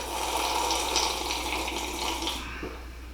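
A drink poured in a continuous liquid rush with a faucet-like hiss, steady and close for a few seconds before tapering slightly, under a low hum, no one speaking.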